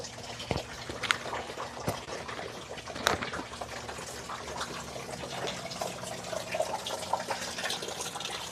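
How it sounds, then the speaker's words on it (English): Continuous rushing waterfall water flows throughout, a steady splashing wash with occasional sharper splashes, moderately loud and with no voices. "from the waterfall"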